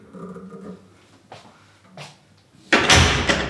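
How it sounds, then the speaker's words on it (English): Someone shuts a door indoors: a few quiet shuffles and soft knocks lead up to one loud, close slam that rings out briefly before fading. "have to close the door."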